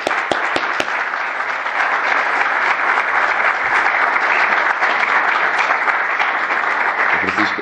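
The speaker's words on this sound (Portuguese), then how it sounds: "Um salve de palmas para a próxima." Sustained applause from an audience at a presentation event, dense and steady from start to finish, with a few sharper claps near the beginning.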